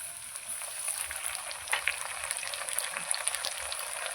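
Potatoes and kohlrabi fry in hot oil with a steady, soft sizzle as a cumin-ginger paste is added, a few faint clinks rising over the continuous crackle, with no voices.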